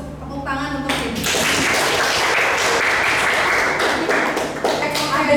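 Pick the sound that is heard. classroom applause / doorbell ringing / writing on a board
classroom applause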